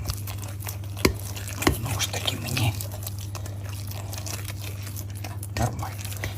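Minced meat being mixed into dough in a bowl for lazy belyashi, with a few soft wet squelching and crunching pulses over a steady low hum.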